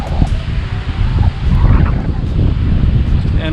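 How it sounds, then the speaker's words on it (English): Strong wind at a lake buffets the microphone in loud, rough gusts, with a low roar and faint water and bird sounds underneath. "It's just way too windy right now."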